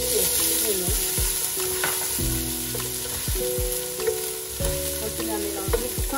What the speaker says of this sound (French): On va rajouter le beurre. Et tout de suite derrière, je vais rajouter les oignons.